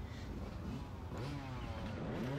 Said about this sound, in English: Dead engine start here.